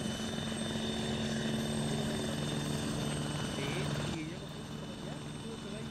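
Aircraft engine in Arma 3 spinning up for takeoff, a steady droning hum with propeller-like buzz that fades slightly near the end, heard fairly quietly with voices chatting over it.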